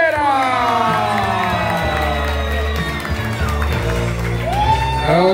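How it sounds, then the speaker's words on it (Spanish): A crowd at a children's race award ceremony cheers and whoops loudly for the first-place winner, with steady noise, shouts and what sounds like music running throughout. "Un fuerte aplauso para el primer lugar, Eduardo Aguilera"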